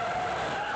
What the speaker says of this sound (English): Air brakes.